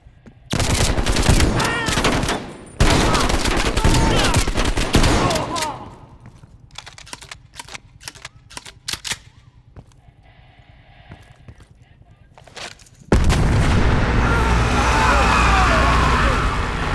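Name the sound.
heavy gunfire and explosions in Call of Duty Black Ops Cold War video game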